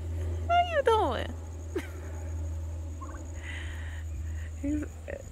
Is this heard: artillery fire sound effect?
no